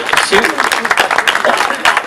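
Audience applause at a charity event raising money for cancer research, dense clapping running throughout at steady loudness, with talking mixed in over it.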